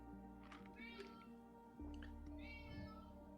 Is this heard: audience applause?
no